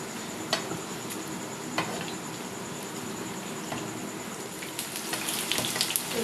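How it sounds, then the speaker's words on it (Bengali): Veg cutlets fry in a pan with a steady, fairly quiet sizzle, and a few sharp clicks and scrapes of turning rise above it. "এইভাবে সবগুলোকে আমি ভেজে নেব"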